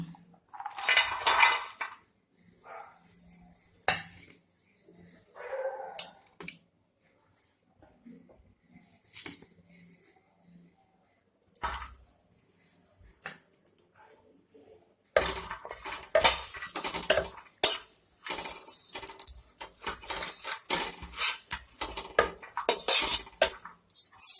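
Sidol fermented fish paste is fried with garlic and green chillies. Scattered spoon and pan clinks and scrapes come first over quiet gaps, then a denser, louder burst of sizzling and stirring clatter.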